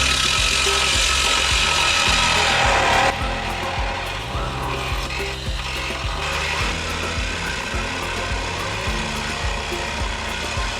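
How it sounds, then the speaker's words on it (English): A reciprocating body saw cuts through the steel inner guard panel of a GX 300 series Landcruiser, giving a loud, rapid, rattling buzz that changes tone partway through and continues steadily, close up. "using the body saw cut the upper and lower cutout sections marked"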